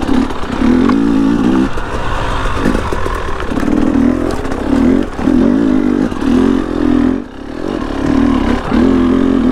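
A motorcycle ridden around a corner on snowy ground, a loud close engine revving in repeated surges and drops with clattering, alone without talk.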